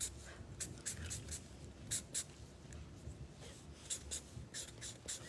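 A pen scratches out a drawing in short, repeated strokes, faint and close, with brief gaps between the marks.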